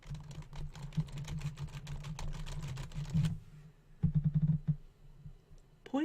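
Keys clatter on a computer keyboard in quick, irregular bursts of close, fairly quiet typing, with a brief pause before a few final taps.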